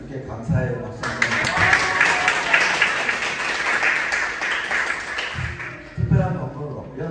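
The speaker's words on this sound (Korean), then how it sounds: "이득재 목사님께 감사의 박수 한번" A church youth service congregation gives a round of thanks applause for the preacher, a sustained burst of clapping lasting about five seconds, with talk just before and after it.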